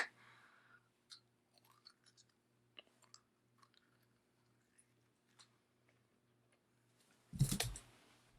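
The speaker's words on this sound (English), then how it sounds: "I'm going to be trying some of the 1989 gum" Someone chews old 1989 Topps baseball-card gum close to the microphone, making faint, sparse crunches and clicks in a quiet room. A louder burst of sound comes near the end.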